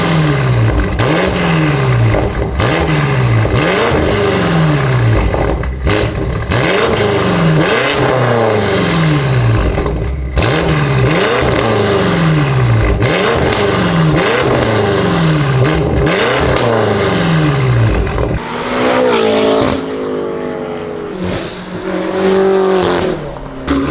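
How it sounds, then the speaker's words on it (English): A BMW M8 Competition V8 with a full titanium Akrapovic exhaust revs over and over in quick, rhythmic bursts with a raspy note, then a final drawn-out roar near the end. "Full titanium Akrapovic system for the M8 competition."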